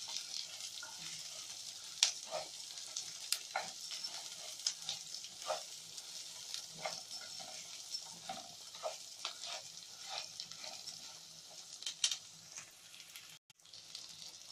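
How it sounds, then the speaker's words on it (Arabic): Chopped hot peppers fry with softened onion and orzo in a pan, a steady close sizzle broken by frequent scraping stirs and light utensil clicks, with no voices. "هنزل بقرنين فلفل حامي متقطع، برضو هقلب الفلفل لحد ما يدبل"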